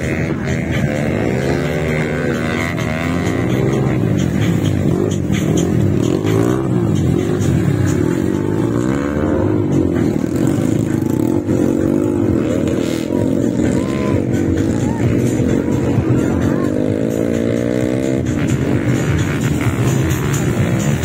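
CRF motocross motorcycles race around the Tanjung circuit in Makassar, South Sulawesi, their engines droning and revving loudly and continuously with shifting pitch as bikes pass close by.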